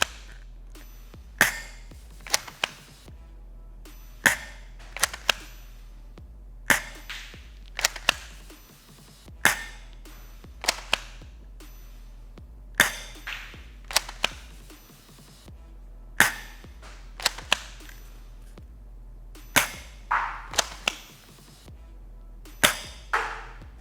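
An S1897 toy shotgun blaster fires outdoors at a range, giving sharp, loud snapping shots at a roughly steady pace of one every second or two across the span, with no one talking.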